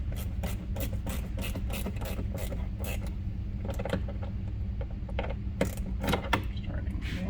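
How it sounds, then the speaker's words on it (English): Screws being fully tightened on a mud flap kit fitted to a 2022+ Subaru WRX, a run of close, rapid ticking clicks from a hand tool over a steady low hum. "Now with that set, we're going to fully tighten all of our screws."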